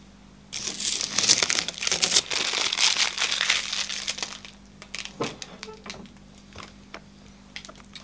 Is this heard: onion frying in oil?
no